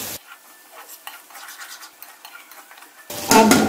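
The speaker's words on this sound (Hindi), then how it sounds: "अब हम इसके अंदर चम्मच चलाएंगे, 1 से 2 मिनट इसको अच्छे से हमने भूनना है।" Spices, salt, garam masala and green chili fry for chicken moti pulao while a spoon scrapes and stirs in the pot, giving a close crackling sizzle that swells loudly at the end.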